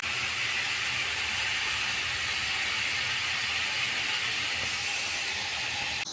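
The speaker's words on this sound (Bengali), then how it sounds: "এখন মাংসগুলো ভেজে নেব ভালো করে।" Meat fries in a pan with a loud, steady, broadband hiss that holds unchanged and close throughout, with no talking.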